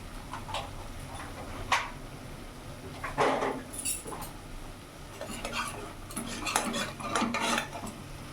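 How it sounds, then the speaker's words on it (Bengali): A metal spoon clinks and scrapes against a pan while spices and Kashmiri chilli powder are stirred for a potato and cauliflower dum, in a few close, intermittent bursts of tapping. "এবার ভালো করে মিশিয়ে নেব। মশলাটা একটু কষিয়ে নেব"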